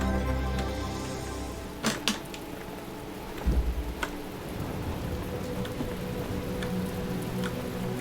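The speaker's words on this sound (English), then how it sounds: "Oh, it's raining again too." Rain falls in the video game The Talos Principle, a steady hiss of drops on surfaces with a few sharper thuds and splashes scattered through it, sounding close and continuous without any voices.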